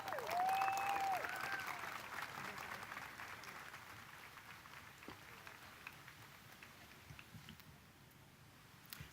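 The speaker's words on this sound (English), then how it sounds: "Could we give another round of applause to Councilwoman Lena Gonzalez?" A crowd at the City of Long Beach inauguration ceremony applauds a councilwoman, with soft, distant clapping that starts fuller and slowly fades to a thin patter.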